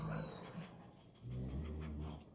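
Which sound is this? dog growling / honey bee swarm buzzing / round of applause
dog growling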